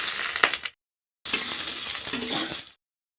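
Onions hit hot white oil in a wok, giving a bright hissing sizzle with stirring scrapes, in two bursts separated by a short silence.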